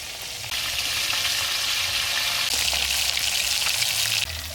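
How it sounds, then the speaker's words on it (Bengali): Pieces of katla fish frying in hot mustard oil, a steady close sizzle that swells louder partway through and then eases near the end, with no talking. "তেল গরম হয়ে গেছে, একে একে মাছগুলো ভেজে নিচ্ছি"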